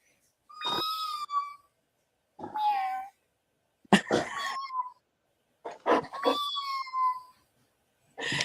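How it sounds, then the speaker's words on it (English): A cat meowing from a TV speaker in a home, several drawn-out harmonic meows spaced apart, clear and fairly close, with no talk over them. "he can't see the cat on the TV"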